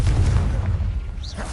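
A Confringo blasting spell explodes in Hogwarts Legacy, a short, deep booming burst with a rumbling tail.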